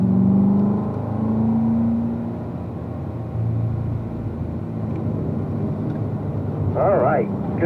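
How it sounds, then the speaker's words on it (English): A car engine accelerates on a track during a driving lesson, its loud steady drone rising in pitch throughout, while a voice talks over it. "The moment we get to the throttle is the moment the car's going to run wide to the left. Okay, squeeze the throttle."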